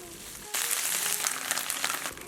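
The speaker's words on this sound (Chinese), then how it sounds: "锅里面热油，把黄瓜、火腿、胡萝卜小火给它煸香" Cucumber, ham and carrot hit hot oil in a wok and burst into a bright, crackling sizzle that holds steady for about two seconds.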